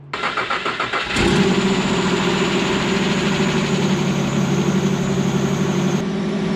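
A Nissan VG30E V6 engine in a Pathfinder or Hardbody with an idle air control valve problem cranks briefly, catches and starts, then settles into a steady, loud idle that runs on with no voices.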